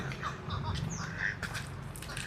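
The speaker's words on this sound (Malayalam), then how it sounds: "താറാവും ഉണ്ട്" Ducks quack faintly in short, scattered calls at a distance, mixed with other bird sounds in an outdoor setting in Kallara, Kottayam, Kerala.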